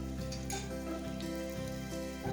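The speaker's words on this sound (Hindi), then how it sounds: "1 टेबल स्पून भर के जिंजर गार्लिक पेस्ट आप ऐड कर दें, उसको थोड़ा सा फ्राई करें। Let it fry for a minute." Ginger garlic paste frying in a pan for restaurant-style chicken Manchurian, a steady close sizzle with light scraping stirs running throughout.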